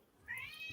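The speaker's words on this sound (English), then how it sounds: "Got a spicy cat." A pet cat giving one short, faint meow that rises and then trails off, heard close in a quiet room without talk.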